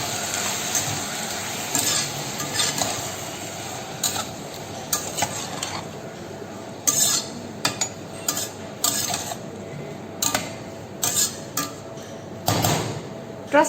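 Chopped tomatoes frying in a pan while being stirred, with a steady sizzle beneath repeated scraping and clinking of a utensil against the pan, close and moderately loud, no talking.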